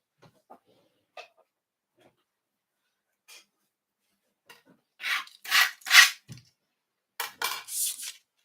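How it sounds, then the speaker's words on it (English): A die-cutting machine runs card pieces through, making a few bursts of rasping, rolling friction in the second half after scattered small clicks and taps, close by with no talk. "let me just go and die cut those two"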